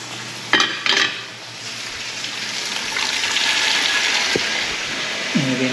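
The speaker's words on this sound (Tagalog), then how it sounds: "Lagyan na po natin yung baramundi." Barramundi fish dropped into a pot of boiling water, with a couple of splashy clatters near the start followed by a steady bubbling, sizzling rush of the boiling pot, close and loud with no talking.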